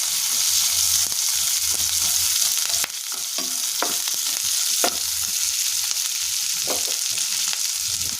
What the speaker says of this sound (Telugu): కరివేపాకు వేసుకొని ఫ్రై చేసుకోవాలి